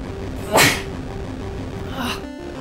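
A single loud, sharp sneeze bursts out close by, followed a moment later by a softer second sneeze or exhale, with a steady game tone humming underneath.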